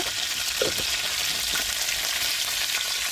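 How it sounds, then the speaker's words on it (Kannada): Onions frying in hot oil with a mustard seed tempering, a steady dense sizzle with a couple of brief stirring knocks, close and continuous with no voices. "ಸಾಸಿವೆ ಚಟಪಟ ಅಂದಮೇಲೆ ನೆಕ್ಸ್ಟ್ ನಾವು ಅದಕ್ಕೆ ಈರುಳ್ಳಿನ ಹಾಕಿ ಹಾಗೆ ಸ್ವಲ್ಪ ಫ್ರೈ ಮಾಡ್ಕೊಳ್ಳುವ"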